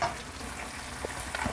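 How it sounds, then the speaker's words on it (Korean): Sausages and vegetables stir-fried in a seasoning sauce as it cooks down, giving a soft, steady sizzle with faint scraping stir sounds near the end, no talking. "양념의 국물이 다 날아갈 때까지 계속 저어서 볶아줍니다."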